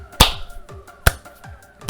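Three sharp, single claps ring out about a second apart in the video game Splatoon 2 Octo Expansion, with softer tapping and clicking in between.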